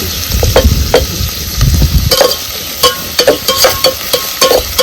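Onion fries in a pan while being stirred for a mutton lunch dish: loud sizzling with repeated scraping and clinking strokes of the spoon against the pan, irregular and close.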